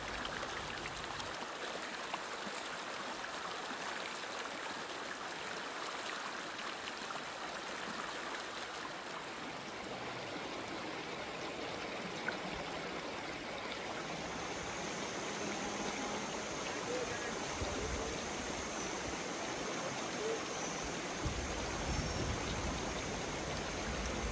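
A river flows steadily past a campsite at Citalahab Camping Ground, a close, continuous rush of running water that stays even for the whole stretch, with no voices.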